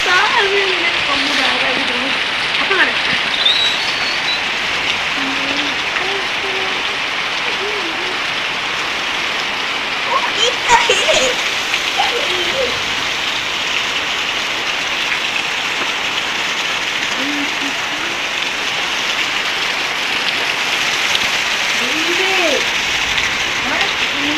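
Heavy rain pours steadily onto surfaces around a village home, a dense, continuous hiss lasting throughout, while a voice talks intermittently over it.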